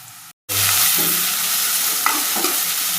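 Ginger paste being stirred into chicken gravy curry as it fries in a pan, a steady close sizzle with scraping stir strokes after a brief silent gap at the start.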